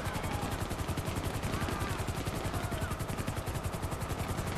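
Rapid gunfire mixed with the steady chop of a police helicopter's rotor in the video game GTA 5, a dense pulsing rhythm throughout, moderately loud and constant with no talk.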